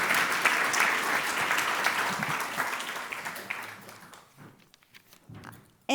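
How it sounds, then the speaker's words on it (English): An audience applauds summit panelists, a full burst of clapping that gradually fades and thins out to scattered claps, with a faint voice near the end. "Please give a round of applause to all of our panelists."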